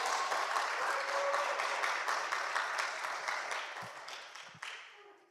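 Warm, sustained applause from a church congregation fills the room at a Korean church service in Toronto, a dense steady clapping that gradually thins and fades out near the end.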